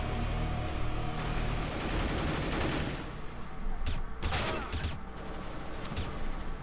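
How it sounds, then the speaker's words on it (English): Loud CS GO gunfire in a busy match, a steady barrage of shots with a sharp burst partway through and no talking over it. "Somebody shot at me"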